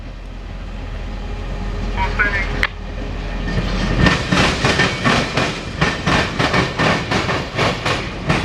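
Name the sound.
CSX local freight train backing up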